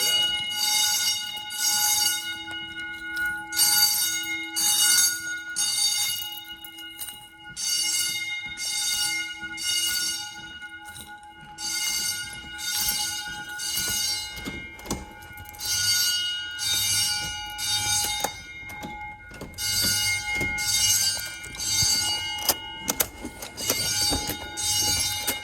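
Middle school fire drill alarm bells in a code/temporal-three pattern, steady loud metallic ringing in repeated rhythmic bursts with short gaps, sounding alone throughout.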